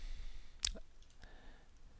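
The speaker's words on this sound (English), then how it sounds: "So I'm going to click Save and Run." A single soft mouse click saving and running a data job on a computer, one brief near tick against quiet room tone.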